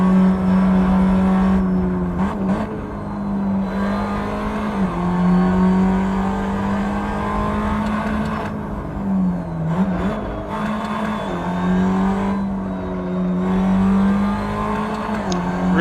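Simulated 2010 Tatuus FA01 open-wheel race car climbing Pike's Peak in Assetto Corsa, its engine droning steadily and loud throughout, pitch dipping and rising with brief lifts and gear changes through tight corners.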